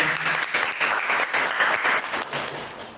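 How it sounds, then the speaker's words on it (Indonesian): Audience applause at a student presidential and vice-presidential candidate vision-and-mission presentation, a steady wash of many hands clapping for about three seconds, fairly close and continuous, tapering slightly at the end. "Tepuk tangan dulu sahabat saya."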